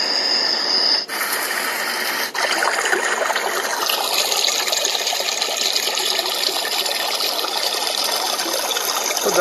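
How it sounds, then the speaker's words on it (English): Running-water setting on a white noise generator, a steady, loud broadband hiss like flowing water, preceded by a couple of button clicks as the setting changes. "Neighbors would think you have running water."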